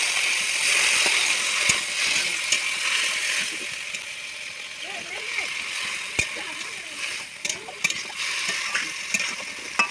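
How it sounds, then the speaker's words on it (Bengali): Water is poured into a pan of prawn curry as it cooks, a sizzling, splashing hiss that runs steadily with a few clinks of a utensil, close by. "সামান্য করে জল দিতে হবে"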